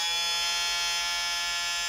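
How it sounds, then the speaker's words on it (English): Jericho horn siren on an Airfix 1/24 scale Ju 87B Stuka dive bomber model, running on battery power: a steady, thin, high electric whine that holds an even pitch without a break. "Now the noise you can hear is not the main propeller. That's the Jericho horn."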